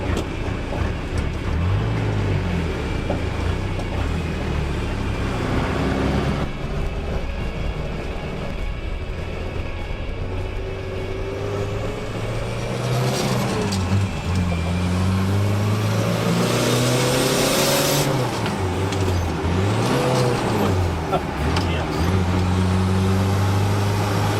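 A car fitted with hand controls for a disabled driver rolls along a road, engine droning and shifting pitch as it speeds up and slows, with a braking moment partway; steady traffic-like rumble without speech.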